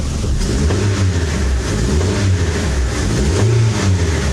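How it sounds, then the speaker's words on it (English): A 2002 Mitsubishi Pajero iO engine revs up and down in repeated swells, loud and close, with a throaty rumble between each climb in pitch. "Engine rev."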